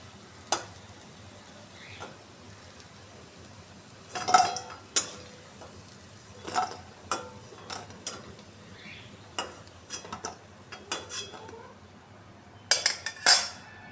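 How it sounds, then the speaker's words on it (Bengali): Fried vegetable fritters are lifted out of hot oil into a bowl with a metal spoon, giving scattered clinks and scrapes over a faint background sizzle. "আমি বড়াগুলোকে একটা পাত্রে তুলে নিচ্ছি"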